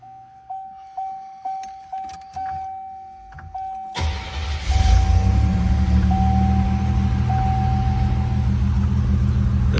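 A 1987 Buick Grand National cranks over with rhythmic starter pulses, fires up and settles into a steady, loud, rumbling idle close by, with no talking.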